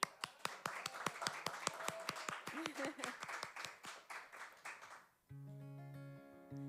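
Clapping from a small live concert audience in a barn studio, distinct individual claps at first that thicken into applause, then cut off abruptly to sustained instrumental tones at the end.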